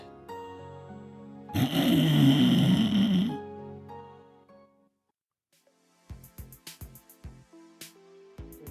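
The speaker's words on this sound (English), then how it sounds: "I think that's a yawn. Like a yawn and stretch" A voiced yawn and stretch from a 9-nine- visual novel character swells into a breathy, drawn-out groan for about two seconds, followed by silence and then light plinking game tones.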